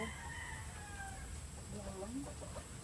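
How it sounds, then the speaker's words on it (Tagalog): Rhode Island Red chickens on a farm cluck and call faintly in the background, with short rising and falling notes over a low, steady ambience. "So may mga pakawala rin tayong mga Rhode Island Red dito."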